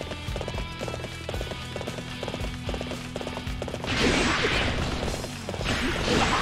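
Horse in the Warriors Orochi 3 Ultimate video game: a steady run of rhythmic clip-clop hoofbeats over music, then louder crashing, whooshing bursts near the end.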